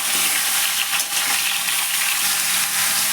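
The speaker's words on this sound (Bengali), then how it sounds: "আমগুলো দিয়ে দিলে এগুলো একটু ভালো করে নাড়াচাড়া করে দিই" Raw mango pieces for sweet pickle are stirred in a hot pan, a loud, constant close sizzle with soft stirring scrapes running through it.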